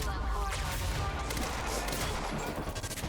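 Sustained gunfire aimed at the player in the video game Quantum Break, a dense, continuous rattle of shots and impacts running loud throughout with faint voices underneath.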